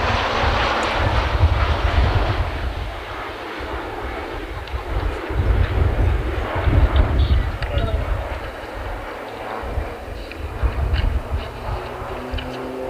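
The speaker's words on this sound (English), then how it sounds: "Roulettes 1 to 4 setting up for the T-to-box loop and fly past" RAAF Roulettes aerobatic propeller aircraft flying past in formation at an air display, a loud droning engine roar that swells and fades, mixed with crowd noise and a commentator's voice.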